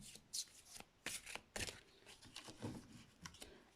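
Tarot cards being shuffled and drawn by hand: several soft, quick riffling and sliding bursts with brief pauses between them, close but quiet, with no talking.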